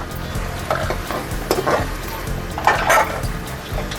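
Onion, ginger-garlic paste, green chili paste, tomato and ground spices being stir-fried together for a Pakistani kaleji (liver) curry: a steady close sizzle with intermittent scraping strokes of a spoon against the pan, no talking.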